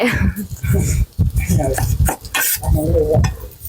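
Vegetables stirred into pad thai in a hot wok, with steady loud sizzling and the scrape and clatter of a spatula against the pan, close up, while someone talks over it.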